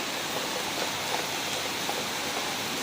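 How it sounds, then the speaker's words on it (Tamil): Heavy rain pouring down at night, a steady dense hiss with no letup, close and fairly loud throughout. "சரியான மழை"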